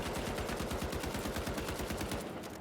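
M60 heavy machine gun in a video game firing a sustained automatic burst, rapid evenly spaced loud shots running continuously with no talk.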